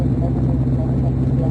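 A Van's RV-7 light aircraft engine runs up to about 2100 RPM, a loud, steady low rumbling drone with a voice talking over it.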